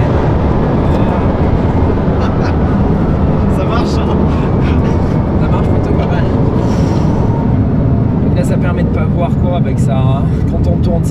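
A Bugatti Chiron Pur Sport with 1500 horsepower accelerates hard, a loud, continuous engine roar filling the cabin, with a voice speaking over it throughout.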